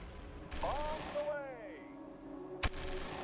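An airstrike in the strategy game Shadow Empire sounds as whooshing, falling whistle tones that sweep downward, followed by a single sharp, loud blast.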